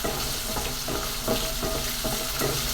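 About a quarter kilo of garlic sautéing in sesame oil for chutney, a dense, steady sizzle with faint stirring scrapes throughout, close and loud with no voices.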